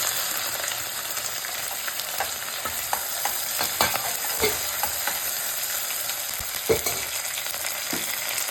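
Steady crackling sizzle of onions frying in a pan, with scattered sharper pops and stirring scrapes throughout; no voices.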